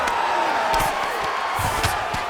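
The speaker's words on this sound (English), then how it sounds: "big pop from the crowd as they get back to their feet" Arena crowd at an MMA bout roars and cheers steadily throughout, a dense sustained wash of voices with a few louder whoops and shouts rising out of it.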